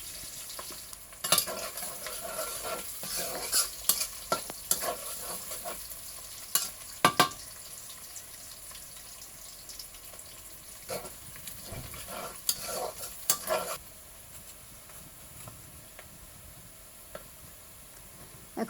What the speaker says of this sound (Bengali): পেঁয়াজটা আমি একটু পরপর নেড়ে চেড়ে নিব